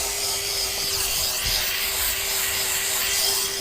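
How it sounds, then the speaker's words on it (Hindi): Sandpaper rubbed steadily by hand over a damaged Maruti Suzuki Swift 2025 quarter panel during accident repair, a continuous close scraping hiss with a constant workshop hum underneath and no talking. "रेगमाल से लाइन मिलाऊंगा गाइस इसकी बिल्कुल परफेक्ट सेम में।"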